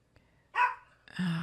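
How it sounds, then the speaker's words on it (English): Two short barks from a dog in the video game Star Wars: Death Star Trainer, the second one longer and lower, separated by a brief pause, close and distinct. "He's barking up a storm"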